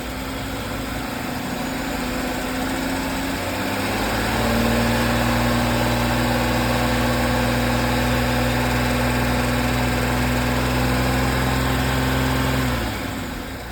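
A 1999 Acura TL engine running rich is revved and held near 2,500 RPM, its idle rising after a few seconds into a loud, steady drone that drops back at the end.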